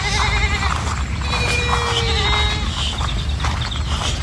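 Goats bleat repeatedly while a group walks across a grassy field, several calls overlapping over a steady outdoor background, fairly close and loud.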